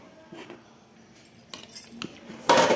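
Chicken biryani being mixed in a pot with a metal utensil: intermittent scraping and clinking strokes against the pot, quiet at first, with a louder clattering scrape near the end.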